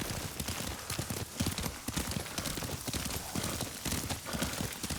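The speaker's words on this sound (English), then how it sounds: "Lord Sakai taught me to ride a horse." Horse hooves clop at a steady riding rhythm in the Ghost of Tsushima video game, repeated close hoofbeats over soft ambient background with no talk.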